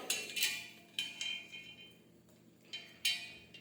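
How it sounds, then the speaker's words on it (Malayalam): A spoon stirs lime water with ice in a glass, producing several sharp clinks and rattles in irregular bursts, close and quiet, with no speech. "നമുക്ക് ഇളക്കി കൊടുക്കാം കേട്ടോ."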